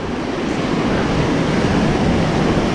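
Sea waves wash steadily around a small boat on an ocean fishing trip, a constant rushing surf mixed with wind, loud and close, with no voices.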